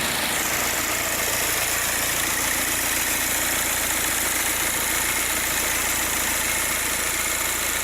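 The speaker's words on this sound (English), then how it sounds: "And let's see how it runs." A 2004 VW Passat TDI diesel with the BHW engine and a suspected stuck-open EGR valve idles steadily and loudly up close, a constant low rumble with no breaks or voices.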